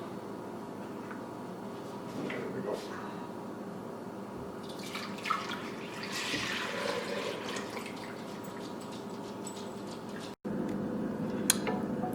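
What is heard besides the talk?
pouring milk into a pot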